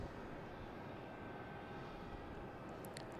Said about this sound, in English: That Spirit taking off?